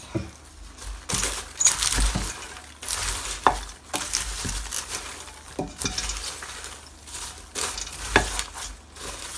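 Popcorn kernels are stirred into bubbling caramel in a pot, a steady sizzle broken by repeated scrapes and clinks of the spoon against the metal, close and continuous without speech.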